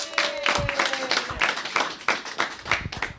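A few people at a budget consultation meeting give sparse, uneven hand claps after a presentation, individual claps spaced out rather than a full crowd roar, fairly close.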